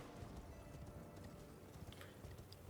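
Horse hooves clip-clopping in a rapid gallop in the Elden Ring video game, a faint, continuous drumming of hoofbeats under a low, steady game soundscape.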